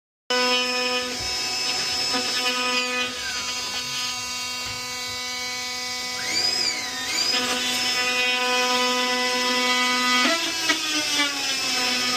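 Power drill driving a few screws while mounting a 4-ton ACiQ side-discharge heat pump, a steady whining motor hum running nearly the whole time with brief pitch changes, close and loud with no talking.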